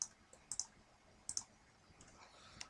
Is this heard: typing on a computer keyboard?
yes